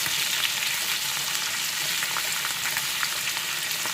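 Salted butter sizzles and fries steadily in a hot pan ahead of cooking steaks, a dense continuous crackle with no voice over it.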